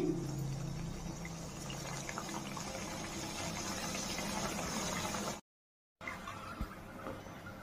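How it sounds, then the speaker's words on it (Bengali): Kheer puli pitha, folded dumplings filled with sweet milk kheer, frying in hot oil, giving a steady, even sizzle that runs for several seconds, cuts out briefly, then resumes slightly quieter. "এখন ভেজে নিচ্ছি।"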